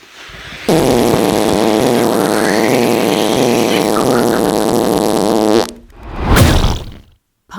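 A long, loud cartoon fart sound effect from a bee blares for about five seconds with a wobbling, bubbly tone, then stops and is followed by a short rising whoosh.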